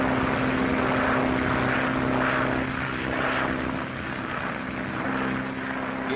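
A propeller airplane engine drones steadily in flight on a 1937 transatlantic crossing, a loud, continuous hum with a low, even pulse, heard alone without voices.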